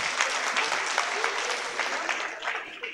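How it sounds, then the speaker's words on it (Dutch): An audience at a live event gives a round of applause, steady moderate clapping from a crowd heard at some distance, with faint voices underneath. "Een applaus."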